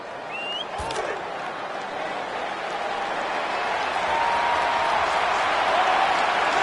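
Broad, steady stadium crowd roar in the video game Madden 25 fills the space, swelling slightly louder toward the end, with a brief whistle-like tone and a sharp tap early on.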